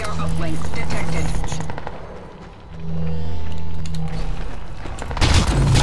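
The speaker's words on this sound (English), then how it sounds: "They both shoot at me." Enemy gunfire aimed at the player in the PC shooter Crysis 2, loud sustained automatic bursts up close, dipping briefly mid-way and returning with a sharp blast at the end.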